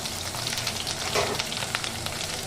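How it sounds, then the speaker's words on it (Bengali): Capsicum and onion frying in mustard oil crackle in a dense, continuous close sizzle with small popping spits and a brief stir. "এবার আমি এর মধ্যে দিয়ে দেবো ক্যাপসিকাম আর পেঁয়াজটা আমি যে চুপ করে ভেজে কেটে রেখেছিলাম সেটাকে ভালো করে সাঁতলে নেব"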